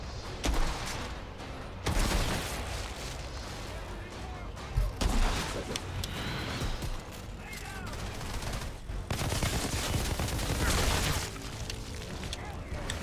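Gunfire in the shooter video game Outriders, including dual-wielded pistols and rifles, crackles in dense, loud bursts and volleys with brief pauses between, some heavy booming impacts, and no clear talking over it.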